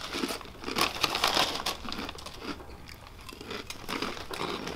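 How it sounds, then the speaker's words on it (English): Crunchy milk-flavored Filipino snack chewed close to the mic, a run of crisp crinkly bites and munching with no talking. "This is really good for a milk-flavored crunchy snack."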